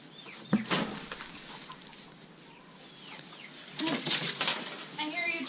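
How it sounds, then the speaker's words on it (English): A chicken clucks in a few short bursts, fairly close, inside a barn, with some rustling and other faint bird sounds in between. "I hear you, chicken."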